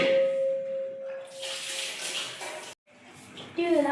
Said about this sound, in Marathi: मी बाजारातून टरबूज आणलेले होते, कलिंगड. एकच काढ. धुवून घेते स्वच्छ